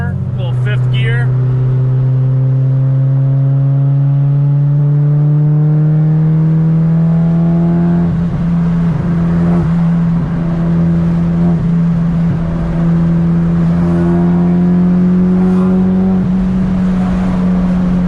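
A Honda Civic Si accelerates in fifth gear, its loud engine drone rising slowly and steadily in pitch for a long pull, heard from inside the car with a brief voice at the start.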